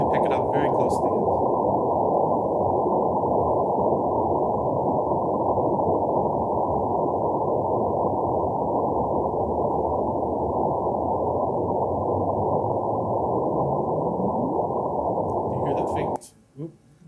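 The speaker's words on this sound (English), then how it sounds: "that was our real detector data converted to audio" Real gravitational-wave detector data rendered as sound: a steady, loud band of dense noise that fills nearly the whole stretch, with a faint rising chirp emerging near the end before cutting off.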